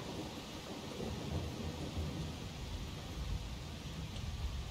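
Steady rain with a low rumble of thunder in a video game, a continuous broadband wash that stays loud and even throughout with no talk.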